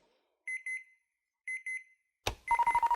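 Game show buzzers: two paired electronic double beeps, then a louder burst with a rapid string of pulsing tones, crisp and close.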